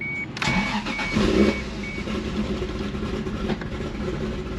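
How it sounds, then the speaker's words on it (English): A Toyota Supra MK3 with a 2JZ-GTE engine and a new exhaust fires up on dyno day, bursting into a loud, close rumble that settles into a steady, throaty idle. "it is time to fire up. You guys will hear the new exhaust."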